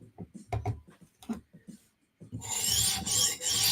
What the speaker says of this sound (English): the high-pitched noise is stone hitting the burr